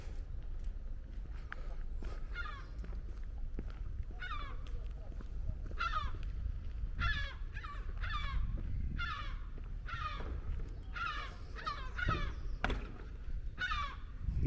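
Seagulls calling repeatedly outdoors in a series of short, harsh, fairly clear cries, with a steady low rumble of wind or engine noise underneath throughout.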